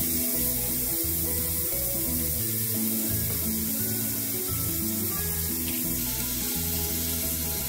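Chopped onion hitting hot oil in a pressure cooker gives a steady, close sizzle with broad hiss, running continuously without speech for the length of the clip.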